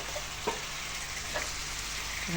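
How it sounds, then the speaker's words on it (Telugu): Marinated chicken frying in a pan for dhaba-style chicken fry, a constant close sizzle with a few light clicks and stirring scrapes. "ఫ్రెండ్స్ ఈ విధంగా వేసేసుకొని ఇలా మంచిగా వేయించుకోవాలి."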